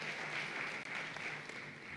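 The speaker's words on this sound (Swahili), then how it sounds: "Makofi tena mengi sana." Faint, distant applause from the audience at a ceremony marking ten years of a Tanzanian human rights defenders' coalition, an even wash of clapping heard without any speech.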